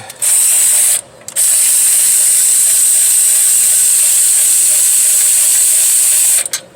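A power ratchet spins out the turbo pedestal bolts on a 2005 Ford 6.0 Powerstroke, a loud close whirring whine that runs almost continuously with one short pause near the start.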